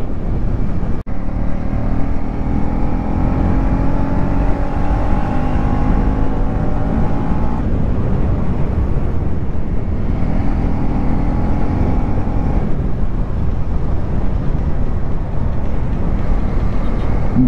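A vehicle rides and corners along a ghat road at night: a loud, steady roar of engine and wind that rises and falls in pitch as it takes the bends.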